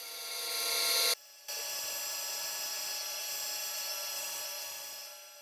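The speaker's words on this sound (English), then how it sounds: "Over at the bandsaw, I'll rough out some stock for the feet." A bandsaw rips wood stock for the feet of a dog gate, giving a loud, steady whine with a brief gap partway through before the cut continues.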